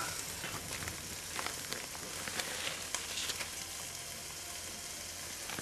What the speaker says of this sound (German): Oh, jetzt kocht es.